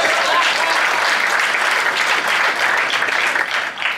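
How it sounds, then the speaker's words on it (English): An audience at a business speaker's event bursts into loud, dense applause that holds steady throughout, many hands clapping close together with no gaps. "Please give him a round of applause."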